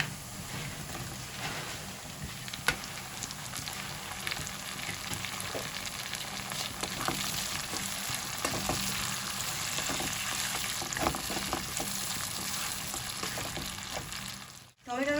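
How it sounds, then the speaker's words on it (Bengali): Steady, close sizzling of onion and tomato frying in a pan continues throughout, with occasional stirring clicks and a brief knock near the end. "পেঁয়াজটা হালকা লাল করে ভাজা হয়ে গেছে।"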